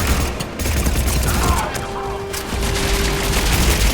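Sustained gunfire from a weapon in Mass Effect 3, a dense continuous volley of shots with booming low end filling the whole stretch, loud and close amid game combat noise, with a faint tone running underneath.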